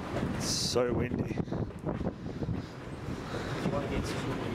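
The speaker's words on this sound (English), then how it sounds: "It's so windy." Strong wind gusts through an abandoned mill in Yarraville, buffeting the microphone with a continuous rough roar that rises and falls, while voices talk over it.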